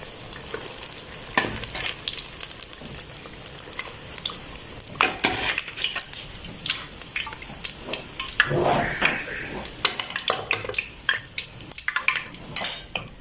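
Fried pakoras being lifted from hot ghee and placed in a strainer, with continuous soft frying sizzle under scattered metal clinks and scraping of a utensil against the pan.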